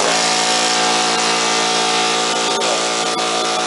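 A Central Pneumatic 10-gallon air compressor runs loud and close with a constant, dense motor roar and buzzing hum that stays unbroken throughout.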